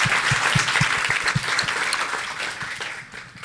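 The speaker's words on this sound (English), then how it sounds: "we can give them a round of applause." An audience applauding the judges at the 2023 Global New Venture Challenge finals, a steady wash of many hands clapping with a few soft thumps, gradually tapering off toward the end.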